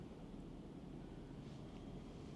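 Cool breeze blowing across the microphone during a train trip in India, a steady, full rumbling wind noise that holds evenly for the whole stretch with no voices.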